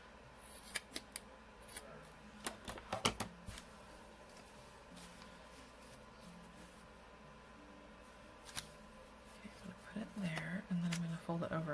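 Scissors cut paper for a junk journal, with clusters of crisp close snips early on and again later, separated by quieter rustling and handling noises at a small tabletop.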